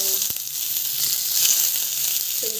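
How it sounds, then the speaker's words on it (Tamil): Mustard seeds, cumin, curry leaves, green chili and onion sizzle steadily in hot oil as they are tipped in together, a continuous close frying hiss with a brief clatter near the start. "ஸோ கடுகு, சீரகம், ஸோ கருவேப்பிலை, பச்சை மிளகா அண்ட் ஆனியன் 3 ஒன்றா போட்டுக்கலாம்."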